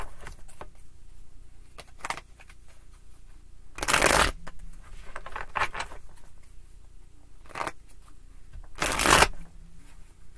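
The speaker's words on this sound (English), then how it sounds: "Why do you shuffle and cut if you're just going to let them fly wherever they want?" Tarot cards are shuffled by hand in short bursts, two loud riffling shuffles standing out among quieter card handling and soft taps, close and alone without talk.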